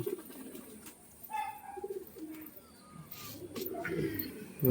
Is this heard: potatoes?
no